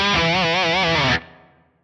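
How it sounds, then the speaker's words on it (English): A distorted electric guitar crunch tone from a Fractal Audio Axe-Fx with light reverb: one sustained, wavering chord rings loud for about a second, then cuts off into a fading reverb tail. "a kind of straight up rock crunch, something like this with maybe a little bit of reverb on it."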